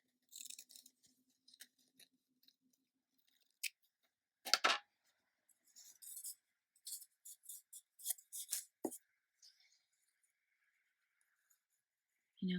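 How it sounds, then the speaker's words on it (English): Scissors snip through fabric traced around a cardboard tube, cut with about a half-inch seam allowance: scattered short crisp snips, some in quick bursts, close and quiet with pauses between. "I'm going to cut out with a seam allowance, maybe a half of an inch."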